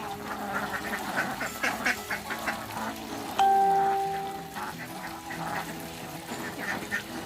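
Ducks on a duck farm quack in a busy, overlapping chorus at moderate distance, with a brief clear ringing tone cutting in partway through.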